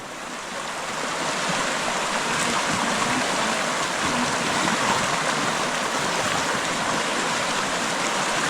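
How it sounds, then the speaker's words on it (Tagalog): A short but powerful river current rushing at a crossing point, a steady, loud broadband roar of churning water holding constant and close throughout, with no voices. "Medyo maikli lang ito tatawirin na ilog, pero mukhang malakas yung ragasa"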